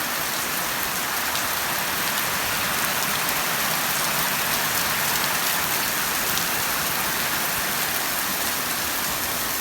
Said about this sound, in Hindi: और तेज़ बारिश शुरू हो गई है।